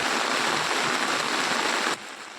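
Steady monsoon rain falls over Chandigarh, a continuous close hiss of drops on surfaces that holds evenly, then drops abruptly to a quieter level near the end; no one talks.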